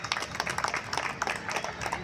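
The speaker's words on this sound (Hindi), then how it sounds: "सब लोग जोरदार ताली बजा के स्वागत करेंगे।" An audience claps to welcome a guest, a former member of parliament, at the opening of a fruit, flower and vegetable exhibition. The clapping is a steady, dense patter from a crowd, moderately distant.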